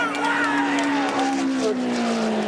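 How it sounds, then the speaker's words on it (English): NASCAR stock cars from the 1983 season roaring side by side toward the finish line at Richmond, a loud sustained engine drone with shifting pitch as they pass, under an excited commentator's voice. "3 cars side by side fighting at the line"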